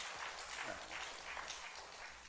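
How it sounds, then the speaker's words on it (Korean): A church congregation claps for the choir, a soft, distant wash of applause that stays even and continuous with faint voices mixed in. "이 시간 찬양대를 위해서 박수 한번 해주실까요?"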